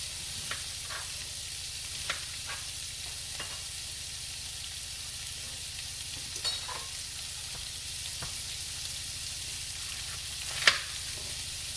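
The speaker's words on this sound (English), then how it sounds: "let me go ahead and get this browned up" Vegetables and carrots browning in a skillet with a steady, faint sizzle, punctuated by occasional soft clicks and scrapes of stirring, with no talking.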